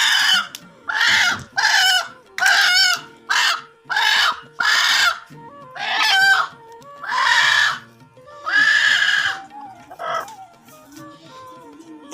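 A hen clucks loudly while being carried, in about a dozen short agitated squawking bursts with brief pauses between them, close and clear.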